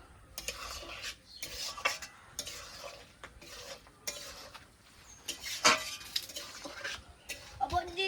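Egg and fig curry is stirred in a pan with a spoon, giving repeated scraping and clinking strokes against the metal over a soft sizzle, close and moderately loud with short pauses between strokes.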